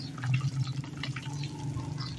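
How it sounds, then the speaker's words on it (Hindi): Water splashing and pouring while a pet animal is washed outdoors in hot village weather, moderately loud running and dripping water with no voices. "इसको हम ज़रा वॉश कर रहे हैं, गर्मी बहुत है"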